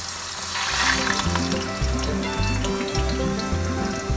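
Cornbread batter is poured into a hot pan at a camp meal and sets off a loud, steady sizzle and crackle that runs continuously, close by, with no talk.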